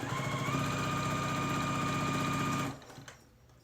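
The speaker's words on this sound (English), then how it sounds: "take it to your machine and give it a good press, or a stitch" A sewing machine stitches fabric in a fast, steady mechanical whir, close and loud, stopping abruptly near the end, followed by a few faint handling clicks.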